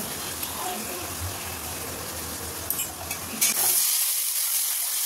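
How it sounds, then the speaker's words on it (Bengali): Spice masala with onion sautéing in oil in a pan for a soybean kofta curry, giving a steady close sizzle and hiss with stirring scrapes before the sound cuts to a brighter, steamy hiss. "দেখো মশলাটা কষা হয়ে গেছে, আর একটু কষবো, তেল তো ছেড়েই দিয়েছে"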